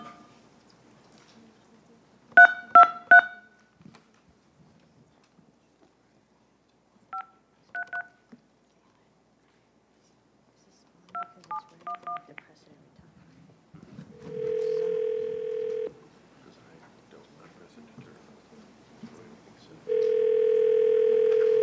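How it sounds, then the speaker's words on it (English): Telephone keypad tones beep in short clustered bursts, separated by silence, followed by two long steady tones on the line as a call is placed by phone at a public meeting. "another person by phone, Andrew Volkelman, so I will make that call."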